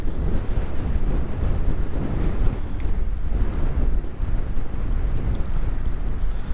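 Strong wind buffets the microphone beside a tiny mountain meadow creek, making a continuous loud low rumble with gusty surges and no voices.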